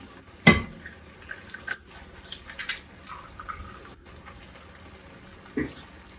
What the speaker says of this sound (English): I'm going to put 2 eggs in here